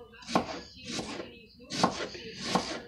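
A knife chops red onion on a board, four distinct close thuds in an uneven rhythm, each with a brief crisp cutting sound, no voices.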